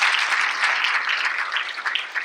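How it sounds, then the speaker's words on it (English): Applause for three schools, Butler Elementary, West Chatham Middle and Thunderbolt Elementary, at a school district gathering: a dense, steady wash of many hands clapping, sustained and fairly loud throughout with no voices. "Give them a round of applause."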